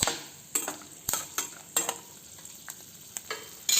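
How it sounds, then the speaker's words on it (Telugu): Peanuts and mustard seeds frying in oil in a kadai, a soft background sizzle broken by sharp irregular pops and stirring clicks, close and fairly quiet. "ఇవి దోరగా వేగేంతవరకు వేయించుకుందాం"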